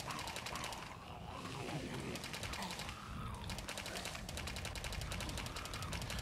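SMG fire in the zombie wave-survival game 28 Waves Later, rapid continuous rattling bursts of automatic gunfire running throughout, with growling zombie-like sounds mixed in.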